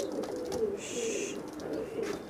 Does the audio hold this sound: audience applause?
no